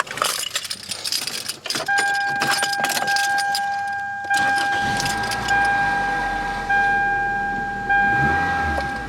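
A 1999 Toyota Corolla, fresh from an oil change, cranks with keys jangling, then its engine starts and settles into a steady idle with a chime tone sounding above it, close and fairly loud.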